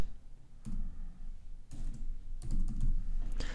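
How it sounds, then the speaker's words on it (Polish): Keys clatter on a computer keyboard in short separate bursts of typing with pauses between them, close and fairly quiet, with no talking. "w polu wyszukiwania wpisujemy słowo Android"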